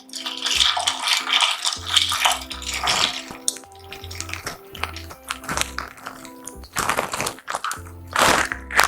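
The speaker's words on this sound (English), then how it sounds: "Then I'm going to stir the mixture together. Give it a nice stir." Nigerian Chapman drink mixture stirred in a container, with irregular clinking and rattling, bursts of sloshing liquid, and pauses between strokes.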